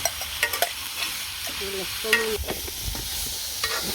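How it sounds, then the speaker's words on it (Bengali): Vegetables frying and being stirred in a pan during outdoor village cooking beside a pond, with steady sizzling and several sharp scraping and clanking stir strokes throughout. "সবজি কষানো হয়ে গেছে জল দিয়ে দেই"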